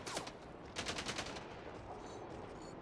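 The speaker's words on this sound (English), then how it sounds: "Someone's shooting at me." Gunfire in the video game Mind's Eye, a rapid burst of several shots at the start and a longer run of quick automatic shots a moment later, sharp and fairly close over a steady game backdrop.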